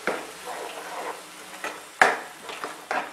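Ground coconut roasts with spices in a pan for dum aloo, a soft crackling sizzle under repeated stirring scrapes, with a sharper clink of a spoon against the pan partway through; close and fairly quiet, no speech.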